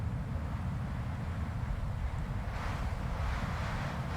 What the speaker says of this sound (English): Mother Nature lets out one huge wind gust